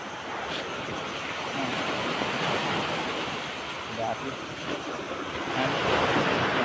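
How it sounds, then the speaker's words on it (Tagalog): Strong ocean surf at high tide roars continuously, with waves crashing and wind buffeting the microphone. "Lakas ng alon."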